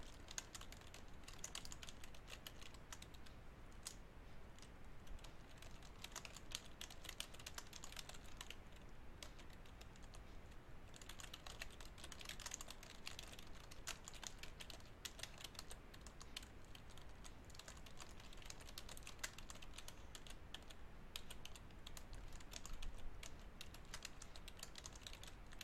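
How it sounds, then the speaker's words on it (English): A computer keyboard is tapped steadily while a letter's recipient address is entered, giving a long run of quiet, even key clicks that keeps going with only brief lulls and no voices. "I am going to type the address of the person who will be getting"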